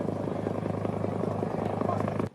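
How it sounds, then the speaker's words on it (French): A Senegalese army helicopter arriving at Kidira thumps with rapid, steady rotor beats under a heavy engine drone, loud and close, with a voice talking over it. "Bassirou Diomaye Faye, est arrivé à Kidira au bord d'un hélicoptère de l'armée sénégalaise."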